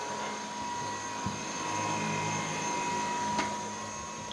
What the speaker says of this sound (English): So if it sounds like this DreamTech T10 on low speed